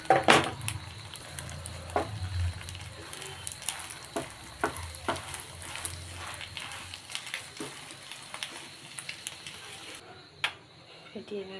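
Beaten egg seasoned with salt fries on a paratha in a pan, giving a soft continuous sizzle broken by sharp scraping and tapping clicks from a utensil, with a faint voice in the background.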